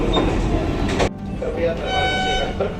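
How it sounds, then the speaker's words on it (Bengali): The Vande Bharat Express rumbles along steadily at speed near Agra Cantonment, a loud continuous roar with a rattling, clattering texture and a brief burst of noise near the start. "বিদ্যুতের গতিতে আমাদের বন্দে ভারত এক্সপ্রেস কিভাবে এগিয়ে চলেছে"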